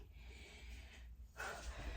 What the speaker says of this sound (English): You have to hear all of my breathing.